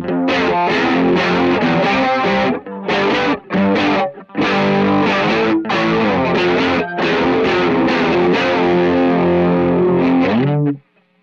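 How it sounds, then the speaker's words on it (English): An electric guitar runs through heavy overdrive and chorus pedals for an 80s sound, loud chords and riffs with a few brief breaks, ringing out before cutting off near the end, with no talking. "Typical heavy drive 80s sound with that chorus."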